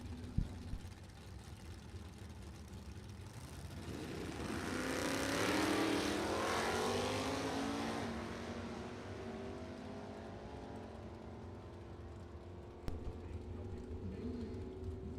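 A 79 Camaro and a 71 Vega wagon, both with small-block engines, drag racing: engine roar swells from a distance, peaks loudly mid-run and fades away as the cars pass, with faint announcer talk around it.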